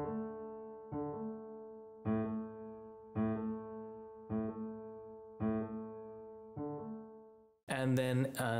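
Low left-hand notes from the bottom voice of the last movement of Beethoven's Tempest Sonata sound on piano, repeated in a steady rhythm, and then a voice starts speaking at the end.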